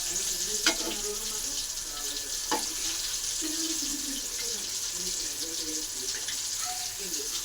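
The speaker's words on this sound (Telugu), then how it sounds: "అన్నీ అయితే ఈవెన్గా ఫ్రై అవ్వాలి" Food frying and sizzling in a pan, a loud continuous hiss with occasional clacks of a spatula stirring, while a voice talks over it at times.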